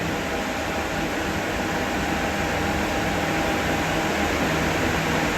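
Fans blowing air through a shipping-container kiln give a steady, even broadband whoosh with a faint constant hum, unbroken throughout.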